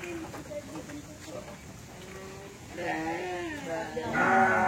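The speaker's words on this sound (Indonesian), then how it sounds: "Tuh ada domba juga." A sheep bleats a few times nearby at a livestock farm, wavering calls rising toward the end, with people talking softly underneath.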